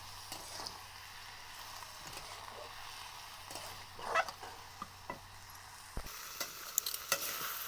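Ground spice paste cooks in a pan, giving a quiet, close sizzle under repeated scraping and stirring strokes, with a louder clatter near the end and no speech.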